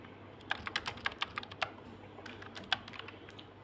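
Quick bursts of keystrokes on a computer keyboard while filling in a billing sheet in MS Excel, irregular taps coming in clusters, close and fairly quiet over a low steady hum, no talking.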